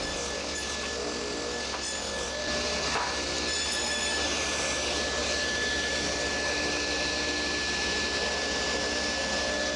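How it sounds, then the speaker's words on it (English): A table saw makes repeated passes along the edges of a wooden lid for a live edge log box, a steady loud whine of the running blade and cutting with no talk. "I'll just move the fence over and take successive cuts until that's all gone."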